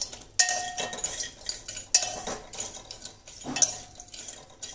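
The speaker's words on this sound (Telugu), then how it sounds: "దాంట్లో వెండి చేపలు వేసి వేయించుతుంది" Dried silver fish being dry-roasted without oil in a pot and stirred, giving three sharp scraping clinks of utensil against metal, each followed by a rustling, gritty shuffle of the fish, close and fairly loud.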